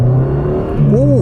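A 1992 Nissan Micra 1.2 GSX K10 with a 70-horsepower engine gives a short, loud, close-up rev: a steady engine drone that swells and climbs in pitch near the end, all within about a second.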